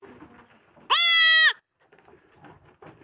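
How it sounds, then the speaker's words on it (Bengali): A goat gives a single loud, close bleat of about half a second, set among quiet background voices of people talking. "ওই যে ছাগলটা ডাকতেছে"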